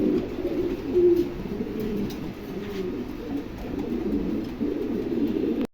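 A moulting pigeon kept for sale coos steadily up close, its low throaty calls running on almost without a break, with no talk.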